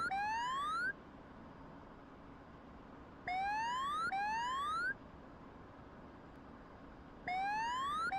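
A warning tone in a flight simulator game repeats as a series of rising sweeping beeps, sounding in bursts over a steady low hum.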